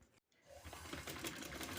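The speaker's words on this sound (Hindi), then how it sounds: "ये ऐसे किनारे किनारे किनारे पे सिलाई लगानी बारीक।" A sewing machine stitching finely along the edge of a kameez sleeve, a steady fast mechanical whir with rapid needle clatter after a brief pause, close and fairly quiet.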